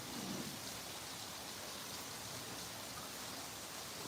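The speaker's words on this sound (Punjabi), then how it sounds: "ਸੰਗਰੂਰ ਦੇ ਵਿੱਚ ਬਹੁਤ ਜ਼ਿਆਦਾ بارش ਹੋ ਰਹੀ ਹੈ" Heavy rain pours steadily in a village near Sangrur, Punjab, with a dense, even hiss of drops and a brief low rumble near the start, no voices.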